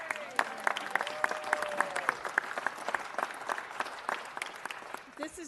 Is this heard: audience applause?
yes